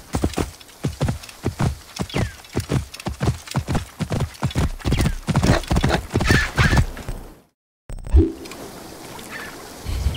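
Horse hooves clip-clopping at a steady gallop in the video game Assassin's Creed Origins, loud and rhythmic, then a brief silence, a splash and a whinny as the horse reaches water.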